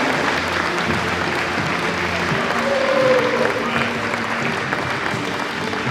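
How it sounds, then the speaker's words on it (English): Steady applause from a large crowd for the dignitaries at the opening ceremony of the Handball Futures 2026 tournament, dense continuous clapping that holds at an even level throughout. "Finally, a round of applause for all our dignitaries"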